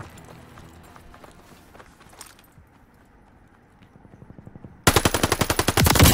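Gunfire in the shooter game Call of Duty: Vanguard, heard first as scattered distant shots and footsteps, then as a loud, fast automatic burst that rattles at close range near the end.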